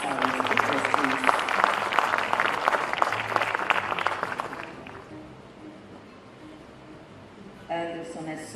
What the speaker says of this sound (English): A round of applause for our guests, our speakers, please.